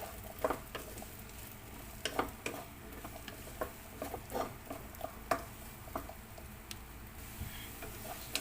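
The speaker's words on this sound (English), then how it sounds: "Then first let's just cook our kikiam." Kikiam frying in a pan while being stirred, a quiet background sizzle broken by scattered clicks and taps of a utensil against the pan at irregular intervals.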